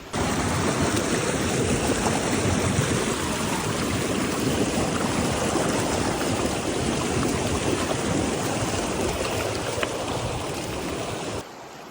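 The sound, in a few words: river flowing beside the trail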